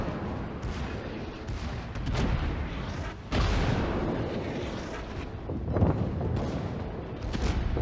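Naval guns fire repeatedly in World of Warships, booming salvos with a heavy rumbling roar that swells and recedes across several seconds, battle noise running continuously.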